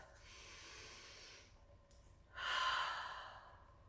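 One deep breath, close and fairly quiet: a soft drawn-in inhale, a short pause, then a fuller, louder sighing exhale, alone without any speech.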